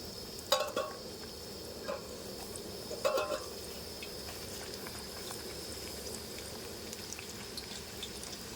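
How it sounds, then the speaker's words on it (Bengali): Sliced potato chips frying in hot oil in a village kitchen, a soft continuous bubbling sizzle with a few brief clinks near the start and middle, fairly quiet and without voices. "এবার আমি সবগুলো ভেজে নেব।"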